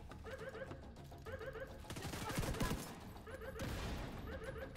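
Gunfire in the video game The Division 2, a short burst of shots rising out of a busy game soundscape with music and effects, moderately loud, with no talk.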